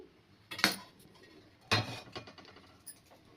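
A metal cooking pot set onto a gas stove in a home kitchen, two sharp clanks about a second apart followed by faint small rattles, close and quiet with no talking.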